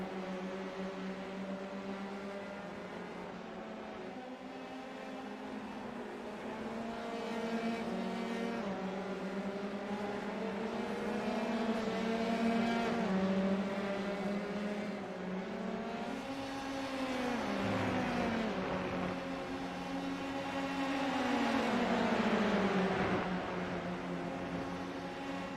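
Race cars in a Formula 3 sim racing game battle closely in a pack, several engine notes droning and rising and falling in pitch together, steady and moderately loud throughout with no talk.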